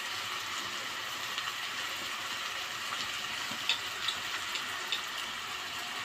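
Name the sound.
sautéing rice with spices in ghee or oil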